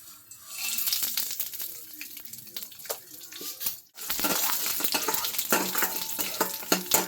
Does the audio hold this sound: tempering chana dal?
yes